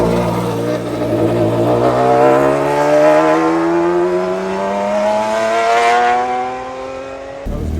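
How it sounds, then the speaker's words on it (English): Hydrogen-powered Alpine car accelerating hard, its engine note climbing steadily in pitch over several seconds, loud and fairly near, then cutting off abruptly. "Hydrogen-powered Alpine."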